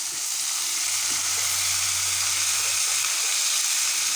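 Drumstick pieces added to a pan of frying onion, garlic, ginger and tomato, giving a continuous close sizzle and hiss with a brief low hum partway through and no speech.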